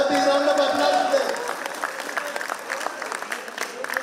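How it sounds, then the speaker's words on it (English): Alumni at a silver jubilee meet applaud couples from their batch, with a crowd's dense clapping after a brief sustained tone, steady and fairly close. "Can we have a big round of applause to them?"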